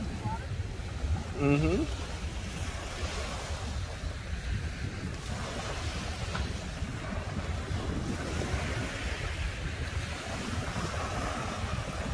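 Ocean surf rolls onto an island beach with steady wind buffeting the microphone, a continuous close wash of waves and gusts, with a brief voice early on.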